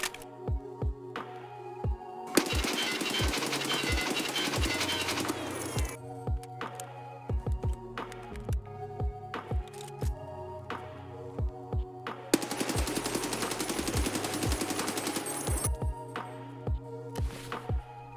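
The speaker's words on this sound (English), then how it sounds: "Here's the mid-range AK's recoil." AKS-74U rifle in Escape from Tarkov with a mid-range build fires in two long full-auto bursts, loud and close, with single shots and short bursts in between and after, and no talk.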